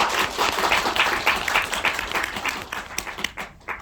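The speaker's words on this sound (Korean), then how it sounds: "박수로 한번 부탁드립니다" Audience applause at a film screening's guest visit with the director and an actor, a dense burst of clapping that gradually thins and trails off into scattered individual claps.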